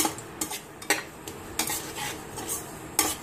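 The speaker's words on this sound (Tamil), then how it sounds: "இது எள்ளு பொரியிற வரைக்கும் வதக்கணுமா?" Sesame seeds dry-roasting in a pan for garlic chutney powder, stirred with a spoon that scrapes the pan in repeated short bursts about every half second, close up, with no talking.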